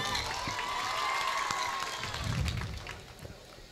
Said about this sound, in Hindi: जरा दमदार तालियों से उसका स्वागत कीजिए।